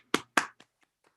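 Two sharp, close hand claps in quick succession at a school of social work pinning ceremony, followed by a few faint, scattered taps that trail off into quiet.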